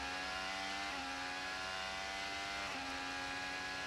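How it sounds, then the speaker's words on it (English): An IndyCar engine revving on the Indianapolis road course, a continuous high-pitched whine with pitch dips at gear changes, loud and steady throughout. "Here the engine revving up as he comes into the braking zone for turn 12."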